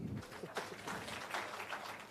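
Conference audience clapping for a singer, a quiet continuous wash of many hands heard from a distance, steady throughout.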